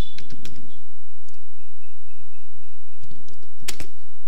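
Light clicks of fingers typing HTML code on a computer keyboard, sparse scattered keystrokes near the start and a tight cluster near the end, with a quiet stretch between and a faint steady tone underneath.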